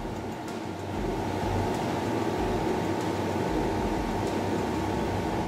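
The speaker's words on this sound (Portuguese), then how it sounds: "vocês escutam aí o barulho desse ar-condicionado," A portable air conditioner runs with a constant broadband whoosh and low mechanical hum, steady and fairly close, with no talking over it.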